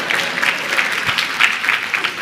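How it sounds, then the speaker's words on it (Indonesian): Wives in a church congregation clap together during a humorous sermon, a steady stretch of scattered handclaps filling the room, moderately loud and close. "Lebih baik, para istri tepuk tangan semua."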